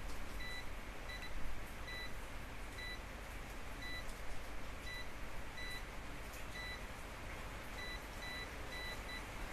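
Multimeter continuity buzzer testing a short-circuited Redmi 8A Pro phone board, giving a steady series of short, evenly spaced beeps over a constant background hiss.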